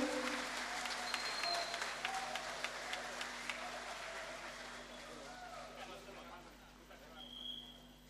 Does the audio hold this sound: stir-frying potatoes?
no